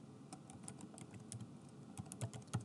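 Light, quick typing on a computer keyboard as a user ID and password are entered, with irregular soft key clicks at close range over quiet room tone.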